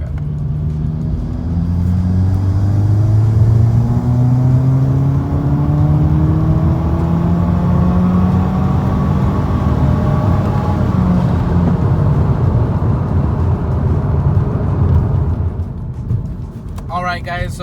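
A Subaru WRX with a CVT accelerates in 4th gear from about 2,000 RPM, its engine note rising steadily with a smooth whirring drone, close and loud inside the cabin, with someone talking over it.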